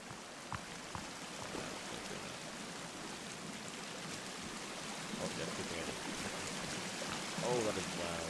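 A river rushing through a survival video game landscape near snowy terrain, a steady broadband wash of flowing water that swells slightly louder toward the end, with faint voice-like sounds underneath.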